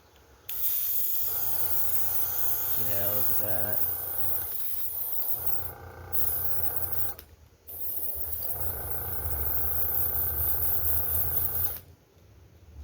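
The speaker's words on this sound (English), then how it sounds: "Now it should just spray just fine" An airbrush sprays paint onto a fishing lure, steady hissing bursts in several long stretches separated by short pauses, with a brief spoken remark partway through.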